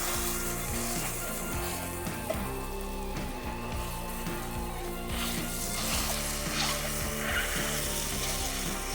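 Sausage browning in a hot pan over a big stove burner, a dense continuous sizzle and crackle with a steady frying hiss, close and unbroken, with no talk.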